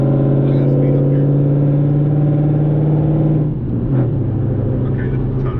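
A 2020 widebody Shaker car with a Redeye engine accelerates, heard as a loud, steady engine drone from inside that shifts in pitch partway through, like a gear change, then keeps pulling.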